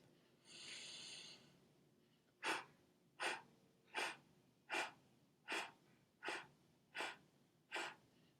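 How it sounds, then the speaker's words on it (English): A long, steady inhale through the nose, followed by an exhale through the mouth broken into eight short, evenly spaced puffs, close and quiet in a calm breathing exercise. "there'll be a long inhale through the nose and an 8-segment exhale out the mouth"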